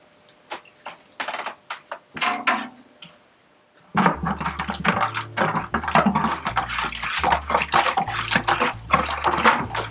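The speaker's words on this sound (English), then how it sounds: "We're going to stir it around." A honey mead mixture stirred in a bucket, giving sloshing and swirling liquid sounds. Sparse splashes come first, then after a pause a louder, continuous churning of water close by, with no speech.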